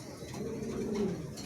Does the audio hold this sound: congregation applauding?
no